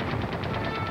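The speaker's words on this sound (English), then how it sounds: "I heard more machine gun fire, more explosions, and the hall filled with smoke." Rapid machine gun fire during a prison raid, with stun grenades nearby, comes as a dense, continuous rattle of rhythmic bursts lasting under a second.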